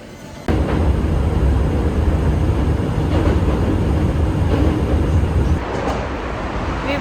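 Inside a railway station in Japan, a train gives a loud steady rumble and rolling roar that starts abruptly and holds for several seconds before easing slightly.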